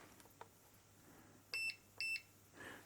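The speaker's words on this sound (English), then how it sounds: "Continuity, so we'll have a beep whenever there's something" A multimeter set to continuity gives two short, clear electronic beeps in quick succession during a workbench check on a Suzuki LT50A quad, against a quiet room with faint handling taps.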